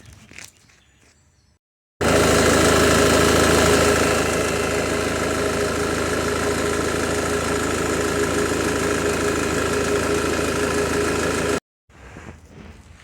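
A Ford Mondeo engine with a low-power fault idles steadily for about ten seconds, a continuous low rumble with a faint rhythmic knock, cutting off abruptly at both ends.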